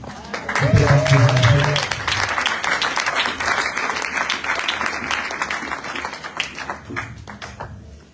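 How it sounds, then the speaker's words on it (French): A church congregation bursts into loud, sustained applause and cheering, dense clapping filling the space, with a sung or shouted voice rising briefly near the start. "Est-ce que tu peux acclamer pour toi-même?"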